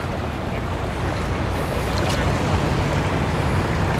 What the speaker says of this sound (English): Oh, a pontoon boat.